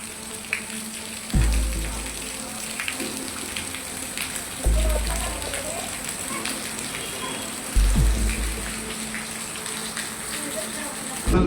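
Steady rain hisses throughout at the Canacona Ravindra Bhavan library in Goa, where rainwater comes in through the verandah, punctuated by a few heavy low thumps, with a voice speaking over it.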